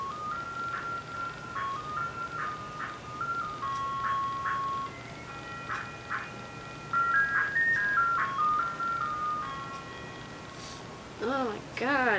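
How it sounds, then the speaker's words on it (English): An ice cream truck's chiming melody plays as it drives past, repeating its tune at moderate distance over steady traffic noise, with a warbling siren-like sweep near the end. "there's an ice cream truck going by"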